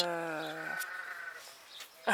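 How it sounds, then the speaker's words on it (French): Sheep bleating in a drawn-out, wavering call at moderate distance, followed by quiet room sound and a second bleat starting at the end. "vous entendez les moutons?"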